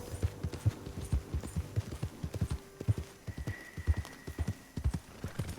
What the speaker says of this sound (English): Y tienen buenos caballos, blancos.